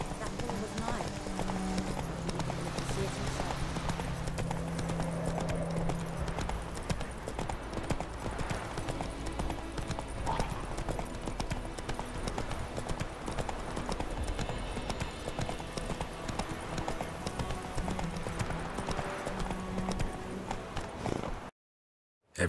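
Roach, a horse in The Witcher 3, gallops with a steady, loud clip-clop of hooves throughout, joined by brief whinnies over game music and a voice talking.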